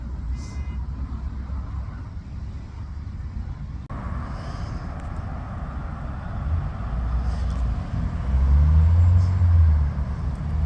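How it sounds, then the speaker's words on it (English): Continuous road traffic at a roundabout, a broad rumbling wash of passing cars and heavier vehicles that swells louder toward the end, heard from nearby without talk. "If it wasn't for the traffic noise and people using the horns, you'd actually forget you was on a roundabout."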